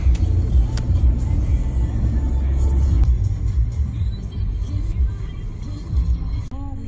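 A car drives along roads in Antwerp, Belgium, its engine and tyres giving a steady, close rumble from inside the cabin, with a faint thump near the end.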